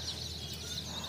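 Chicken chicks chirp at a market stall where brightly coloured chicks are sold. The peeping is a faint, steady, high-pitched chatter that runs through the whole moment with no one talking.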